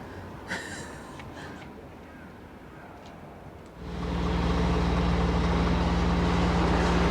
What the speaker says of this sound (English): As you can probably hear, it's early in the morning, so all the delivery lorries are up and down the street